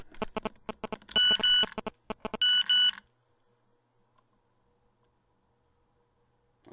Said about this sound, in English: if you heard the text message go off, that was on my phone, not on yours